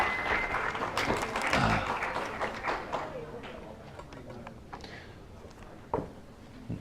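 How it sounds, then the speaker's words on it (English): Seminar audience applauding a bingo prize winner, clapping loudly at first then thinning into a few scattered claps, with voices and room chatter mixed in and one sharp knock near the end. "Round of applause."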